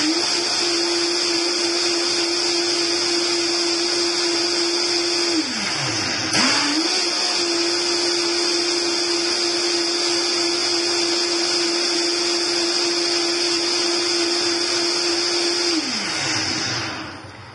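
A Vitamix blender runs on high with power blast, a loud steady motor whine that briefly dips and recovers midway, then winds down near the end, with no talking.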